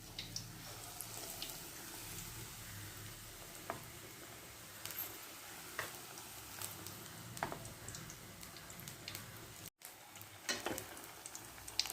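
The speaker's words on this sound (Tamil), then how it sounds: "வாழைக்காய் எடுத்து பஜ்ஜி மாவில் முக்கி எண்ணெயில் போட்டு பொரிச்சு எடுத்துட வேண்டியது தான்." Raw banana slices dipped in bajji batter fry in hot oil, a soft continuous sizzle with occasional faint clicks and scrapes, fairly quiet and steady.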